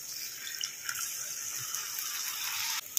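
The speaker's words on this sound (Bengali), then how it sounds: "এবার দেখো বাটি ধোয়া জলটা দিয়ে দেবো" Water poured from a rinsed bowl into a pan of prawn curry with cashew, melon seed, coconut and green chilli paste, a steady close splashing pour with a watery hiss throughout.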